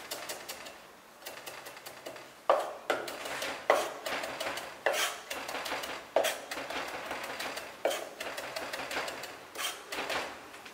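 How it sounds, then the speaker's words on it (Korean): A knife minces vegetables on a cutting board while dumpling filling is prepared, sharp rapid chops in uneven bursts, close and crisp, with no talking. "채 썰고 작은 알갱이로 만들어서 다져주도록 하겠습니다"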